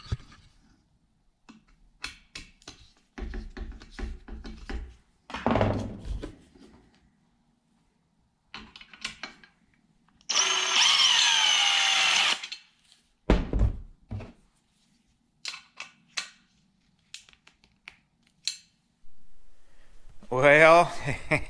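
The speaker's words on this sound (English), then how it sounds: "I'm using a drill and an Allen to tighten them up." A broadband whirring burst of a power drill with an Allen bit tightening roof rail bolts on a Sprinter van runs for about two seconds, surrounded by scattered clunks, taps and intermittent talk.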